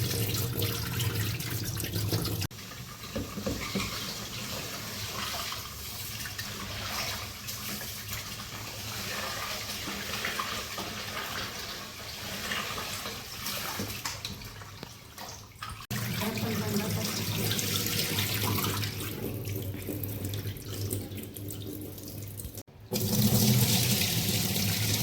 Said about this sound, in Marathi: आपल्याला आहे ना स्वच्छ धुवून घ्यायची ती आधी आणि पातेल्यात टाकून व्यवस्थित स्वच्छ धुवून घेते 2-3 पाण्याने